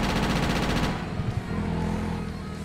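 Rapid automatic gunfire from shooting at the Lost bikers in the video game GTA: Chinatown Wars: a dense, loud rattling burst for about a second, then scattered single shots and a lingering noisy tail.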